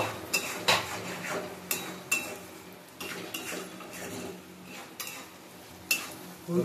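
Metal spoon scraping and clinking in a pan while fried rice with turmeric is stirred, a steady run of close, sharp scrapes and taps repeating roughly every second, with no talking.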